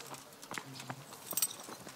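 Horse hooves clip-clop at a walking pace in the video game Kingdom Come, a few light uneven taps with a faint background tone, moderately close and not very loud.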